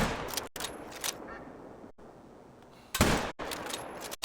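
Rifle fire in a hunting video game, several sharp loud shots spaced irregularly, each followed by a brief echoing tail against a quiet outdoor background.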